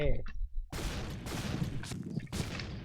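Gunfire in the online shooter Point Blank rings out as a dense burst of sharp shots, starting right after a pause and continuing in rapid, uneven volleys at fairly low level, with a player's voice faintly mixed in.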